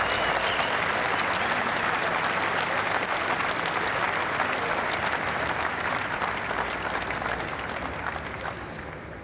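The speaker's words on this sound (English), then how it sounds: "Give him a big clap." Spectators at the 2012 British Open squash semifinal give a junior player a sustained round of clapping, loud and dense at first, then gradually thinning toward the end.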